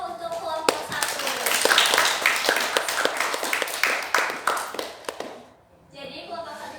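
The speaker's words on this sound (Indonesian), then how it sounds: "Tepuk tangan dulu untuk kelompok 1." Students in a classroom clap for a presenting group during a microteaching lesson. The clapping is scattered and uneven, mixed with voices talking, and dies away before a short quiet gap and more chatter.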